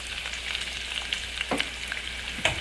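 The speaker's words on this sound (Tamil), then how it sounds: "அதையும் போடுறேன் பொரிக்க" Garlic fries in oil, sizzling and crackling steadily at close range, with occasional louder spits and pops, and no one speaking.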